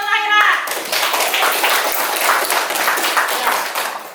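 Schoolchildren in a classroom clapping for a classmate, a lively scattered burst of small hands that follows a short sung or spoken tone at the start and runs for about four seconds.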